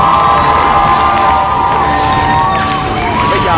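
A studio audience at a Vietnamese game show cheers and applauds for the contestants, a steady, loud crowd roar with whoops running under bright musical tones throughout.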